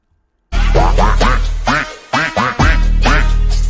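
A duck quacks loudly and close by in a rapid series of about eight harsh calls with short gaps between them, and no voices are heard.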